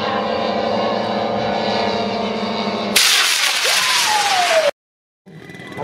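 A propeller-driven warbird lands at an air show, its engine droning loud and steady, then a passing roar with a falling pitch before a sudden cut.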